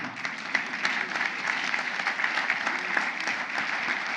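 A church congregation applauding, dense sustained clapping from a crowd that fills the space evenly and keeps going without pause.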